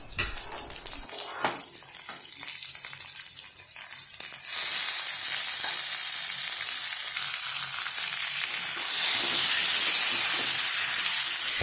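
Boiled potatoes frying with kalmi stalks, a loud steady sizzle and hiss that grows stronger after a few seconds and holds, with occasional stirring scrapes in the pan.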